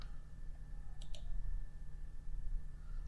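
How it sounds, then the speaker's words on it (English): A computer mouse gives two quick, crisp clicks in close succession over a steady low hum, with no talking. "You can copy via right-clicking"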